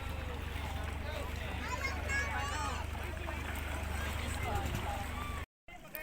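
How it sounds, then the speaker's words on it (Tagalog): Boats departing on open water with wind buffeting the microphone, a low engine drone, and faint distant voices in the background. "Nag-aalis na po mga bangka dito."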